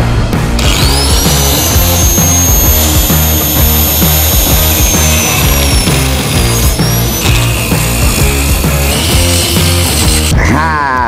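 An angle grinder cuts through an HSR motorcycle wheel rim with a loud, continuous high-pitched whine over pulsing metallic grinding. The pitch shifts around the middle, and the tool cuts off near the end.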